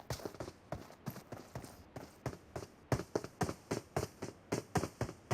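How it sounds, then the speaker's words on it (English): Rapid, regular enemy footsteps in a video game, a steady run of sharp close taps with no talk over them. "I can hear his footsteps"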